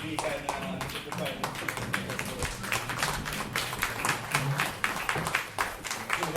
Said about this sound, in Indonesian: saya minta kita semua berdiri dan berikan tepukan.